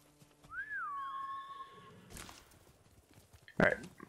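A horse in the video game Ghost of Tsushima gives one clear, rising-and-falling whinny as the rider mounts. A soft thump and a sharp, brief clatter follow against quiet game ambience.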